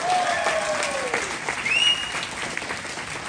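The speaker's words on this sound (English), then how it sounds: "Let's give them a round of applause." Wedding reception guests clap for the newlywed couple in a loud, sustained wash of applause. Faint whistles and cheers rise over the clapping, with no speech.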